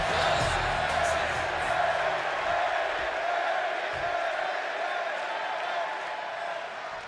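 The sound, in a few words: wrestling arena crowd in WWE 2K26 video game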